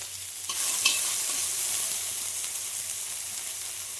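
Crushed onions and a bay leaf hit hot oil in a wok, bursting into a loud, steady sizzle with a brief stirring scrape, the frying continuing close and unbroken.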